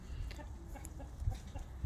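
Brahma chickens cluck softly in a backyard flock of hens and roosters, a few short, scattered clucks over a low, steady outdoor background.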